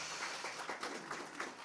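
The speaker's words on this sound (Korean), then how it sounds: "뜨거운 박수 다시 한번 부탁드립니다" Audience applause at a space policy forum in a conference hall, a steady wash of many hands clapping that holds at a moderate level through the whole short stretch.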